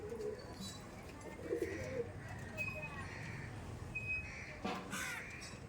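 Male teddy pigeons at a home loft coo softly, with a few low murmuring calls scattered over steady background noise and other bird sounds.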